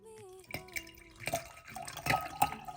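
Cold water poured into cups for color-changing drinkware, a faint trickle with light splashes and drips, close and quiet.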